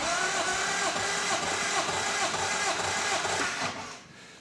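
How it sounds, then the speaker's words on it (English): A 1964 Triumph TR4 engine cranking at full throttle during a compression test: steady rhythmic starter churning at moderate level, lasting about three and a half seconds before fading. "So now I'm gonna go full throttle, and we're gonna crank it."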